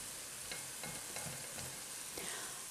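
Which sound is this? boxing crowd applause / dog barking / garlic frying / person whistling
garlic frying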